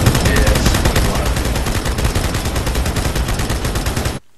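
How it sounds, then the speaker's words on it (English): Turret gunfire in a Halo 2 custom game on a Death Star assault map, a loud continuous rapid-fire rattle of automatic shots sustained for about four seconds before cutting off abruptly. "The sound of those turrets actually rattles my brain."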